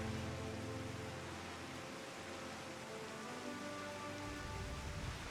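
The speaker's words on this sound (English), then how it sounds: "I like that it's raining during this." Steady rain falls throughout a Final Fantasy XIV game scene, a constant hiss of raindrops with an ambient musical score layered beneath it and no talking.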